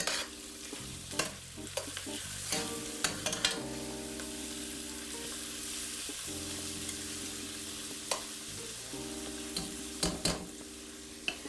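Onions and garlic sauté in oil for a Tuscan Chianti beef stew, a soft continuous sizzle under repeated spoon scrapes and taps against the pot at irregular intervals, faint and close, with no voices.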